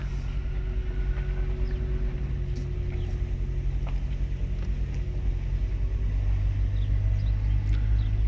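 A truck cruises slowly through a classic car salvage yard, its engine giving a steady low rumble that holds constant and close throughout, with no talking.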